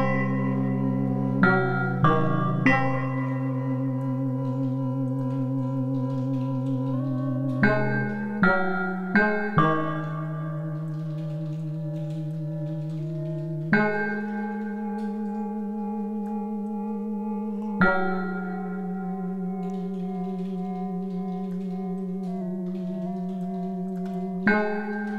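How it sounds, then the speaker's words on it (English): Synthesized bell tones from granular synthesis struck one after another, each ringing out with rich harmonics and a long reverberant sustain, changing pitch every few seconds. "Bit more of reverb on this bell."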